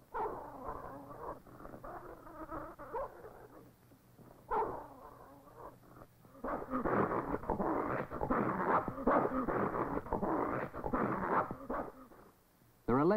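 Sled dogs scuffle over scarce food, with growls, yips and whimpers in a rough, jostling tangle that swells louder in the second half, heard under a narrating voice.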